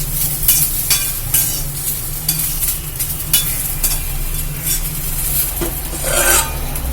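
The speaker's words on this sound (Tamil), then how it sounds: "இது இன்னும் கொஞ்சம் வதக்கிக்கலாம்ப்பா" Bitter gourd sautéing in a pan for a Tamil bitter gourd and field bean curry, a steady close sizzle with scraping stir strokes at irregular intervals and a low background hum, no voices.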